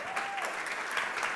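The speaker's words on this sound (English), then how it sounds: "More applause for Dr. Mozaffarian, please" Applause from a conference audience honoring a speaker at a food-as-medicine event, a brief dense burst of clapping from the crowd.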